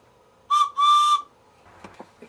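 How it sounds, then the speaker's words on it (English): Two steady whistle blasts, a short one then a longer one, clear and close, followed by faint tapping sounds. "I know it'll whistle."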